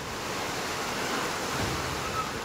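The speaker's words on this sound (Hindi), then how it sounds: "ऋषिकेश में गंगा उफान पर है" The flooded Ganga at Rishikesh rushes in spate, a constant broadband roar of fast-moving water, loud and unbroken, with no voices.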